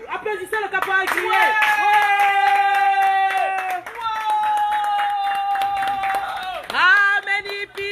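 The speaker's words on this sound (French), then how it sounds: "Applaudissez le caporal Guillet." A crowd claps steadily beneath strong sustained singing or chanting voices, the clapping continuous and fairly close for nearly eight seconds.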